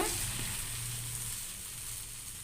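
Batter swirled onto a hot oiled pan sizzles in a steady, close frying hiss with a faint low hum beneath, no voices.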